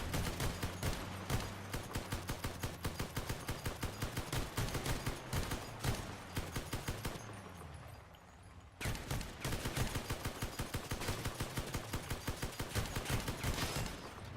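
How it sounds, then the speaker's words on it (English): All the weapons on a vehicle in the game Crossout fire at once in rapid, relentless volleys. A dense, steady stream of gunfire runs with only a brief lull partway through and no talking. "if you don't rebound your guns, everything fires at once"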